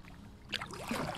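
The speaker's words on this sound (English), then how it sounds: "I am paddling today because my dadgum motor quit on me." Paddle stroking the water beside a fishing boat in shallow water: a faint, brief splash and swish that builds into a soft watery gurgle, close and quiet.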